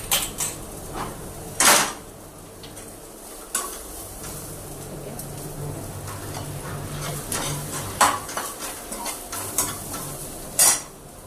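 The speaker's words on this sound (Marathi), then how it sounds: "तोपर्यंत आपलं सुकं खोबरं आणि कांदा भाजतो आहे" Dry coconut and onion roast in a pan with a soft steady sizzle, punctuated by several sharp metallic scrapes and clinks of a spoon stirring.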